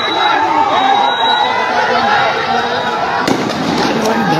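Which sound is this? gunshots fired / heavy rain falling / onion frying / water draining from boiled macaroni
gunshots fired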